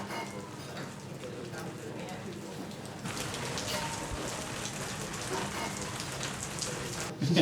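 Steady rain patters on surfaces outdoors, a dense continuous hiss that grows slightly stronger partway through.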